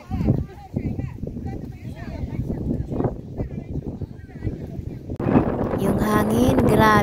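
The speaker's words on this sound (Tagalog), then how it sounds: "Yung hangin, grabe." Strong wind buffets the microphone on a mountain hiking trail at Danfeng Mountain, New Taipei, a steady rushing roar with gusts under people talking throughout, swelling louder near the end.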